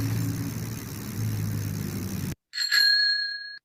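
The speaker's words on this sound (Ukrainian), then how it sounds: "Так, правильно, це велосипед." A low rumble of traffic runs, then cuts out, followed by a bright bicycle bell ringing twice, clear and close, with a ringing tail.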